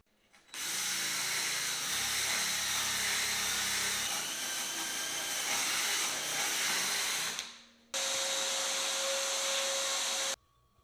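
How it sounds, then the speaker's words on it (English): A steady, loud vacuum cleaner drone runs for several seconds in a garage while cleaning out a 1968 Chevrolet Chevelle, cuts off briefly, then starts again with a high whine. "I'm going to take a minute and really clean all this out, vacuum it up"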